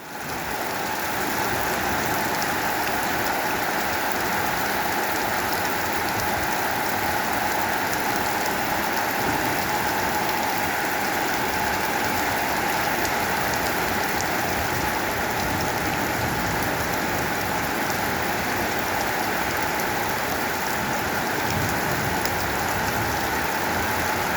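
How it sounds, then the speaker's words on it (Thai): Steady, heavy rain pours down at night around a Thai temple, a dense continuous hiss that stays constant and loud throughout with no pauses or other sounds. "ช่วงดึกๆ อาจจะไม่มีฟ้าอาจจะมีฝนล้วน"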